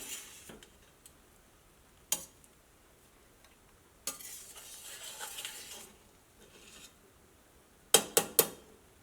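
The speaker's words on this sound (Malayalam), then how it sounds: "ഇനി നമുക്ക് ബിരിയാണി ഒന്ന് മിക്സ് ചെയ്ത് നോക്കാം" Cooked biryani rice gets mixed in a pressure cooker, with sparse metallic clinks and scrapes of a utensil against the pot, a longer stretch of scraping in the middle and three quick knocks near the end.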